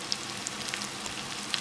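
Soft, steady sizzling of mushrooms frying in a pan, with a few faint crackles and pops over a low background hiss.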